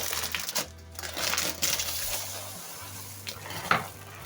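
Puffed rice being stirred into a thick toffee-like fudge mass in a pot, with dry crunchy rustling and scraping in repeated stirring strokes, close and fairly quiet.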